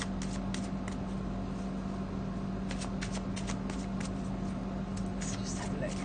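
A black and white Faulkner tarot deck being shuffled, with quick soft riffling and flicking of cards against a steady hum, close and fairly quiet.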